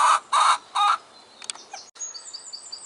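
Three loud clucking squawks from chickens in a row in a garden farm, then softer scattered chirps and peeps close by.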